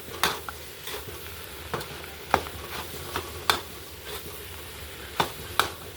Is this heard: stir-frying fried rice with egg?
yes